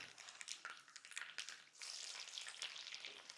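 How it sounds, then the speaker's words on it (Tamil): Mustard seeds and finely chopped small onions fry in sesame oil for a village-style meal, giving a steady crackling sizzle with scattered pops, close and fairly quiet, with no voices. "கடுகு நல்லா பொரிஞ்சோடனே சின்ன வெங்காயம் நல்லா ஃபைனாக சாப் பண்ணி போடுங்க"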